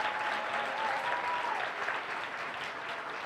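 Steady audience applause fills a church-style gathering after a leader is appointed, a dense wash of clapping at even volume with a faint voice drifting through early on.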